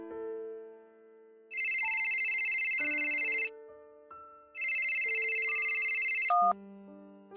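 A mobile phone ringtone sounds for an incoming call, a loud electronic melody of stepped tones with two bright ringing bursts, heard alone without voices.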